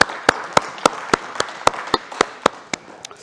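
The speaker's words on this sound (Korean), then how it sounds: "우리 하나님께 영광의 박수 올리겠습니다" A church congregation claps in unison during a worship service, about a dozen sharp, evenly spaced claps at a brisk beat, fairly close and alone with no talking over it.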